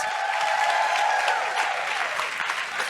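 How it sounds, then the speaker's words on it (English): An audience claps continuously, a dense, even wash of many hands applauding at moderate loudness for a few seconds. "Let's give Claire a massive round of applause."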